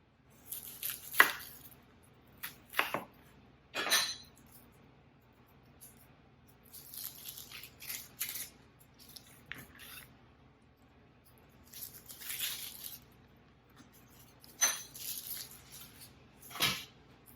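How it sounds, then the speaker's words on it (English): A knife slicing an onion on a cutting board in a home kitchen, soft intermittent crisp cuts and chops in short clusters separated by quiet pauses. "I'm going to cut this onion right quick."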